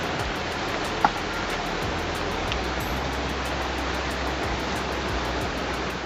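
A river flows steadily beside the bank, a continuous close rushing wash with one brief click early on.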